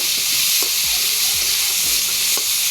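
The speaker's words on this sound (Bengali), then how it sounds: "এখন গরম তেলের মধ্যে আমি পেঁয়াজ, রসুন যা কেটেছি তা সব তেলের উপরে দিয়ে দিলাম।" Chopped onion and garlic sizzling loudly in hot oil, a dense continuous frying hiss up close with a few faint knocks of utensils underneath.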